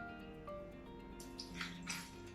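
Water is poured into a glass of mint lemonade already mixed with sugar, a pinch of salt and plenty of ice, a faint splashing that swells in a few short bursts near the end.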